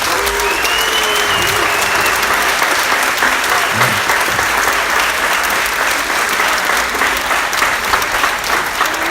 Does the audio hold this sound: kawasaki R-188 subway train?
no